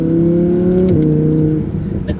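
An Audi R8 V10 plus engine pulls from inside the cabin, a steady droning tone that dips briefly as if shifting, then carries on under faint background noise.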